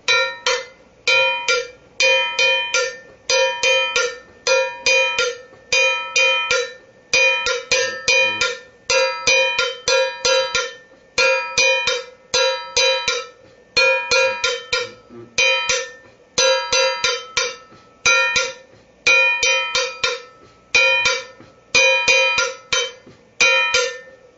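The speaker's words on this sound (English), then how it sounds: "a technique to do some kind of funky muting. You could do it on the neck of the cowbell" Muted cowbell struck on the neck with finger pressure, in a steady, quick funky pattern, short dampened clanks repeating in groups with brief pauses, close and fairly loud.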